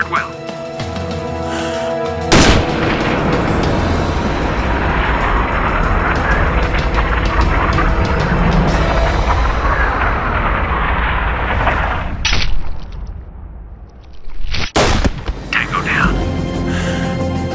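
A dense, sustained barrage of gunfire and heavy explosions in the shooter Sniper: Ghost Warrior, during a village clearing assault. Loud, continuous booms and shots roll throughout, with sharp blasts standing out, and voices are heard talking over the battle.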